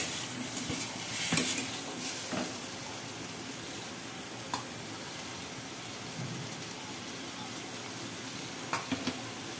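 Fish curry sizzles and fries in a pan with a steady hiss, broken by a few sharp spoon-against-pan clinks and scraping strokes of stirring.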